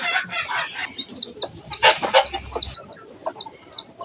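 An angry broody hen named Girasol clucks in sharp repeated bursts beside her single newly hatched chick, whose high peeps recur throughout, close and fairly loud with no talk.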